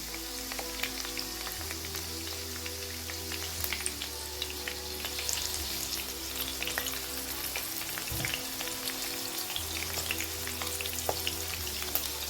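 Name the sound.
frying on low to medium flame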